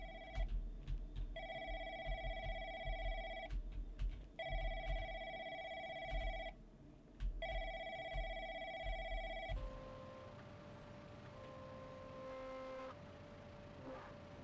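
An old-style telephone bell rings in repeated bursts with short pauses in the Crisis at Call Center video game, followed by a softer electronic ringing tone and a low background rumble.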